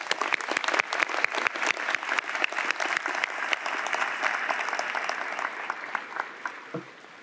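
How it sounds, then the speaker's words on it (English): Audience at a university convocation ceremony for applied science graduates gives a round of applause, a steady, moderately distant patter of many hands clapping that thins and fades near the end. "Let's give them a round of applause."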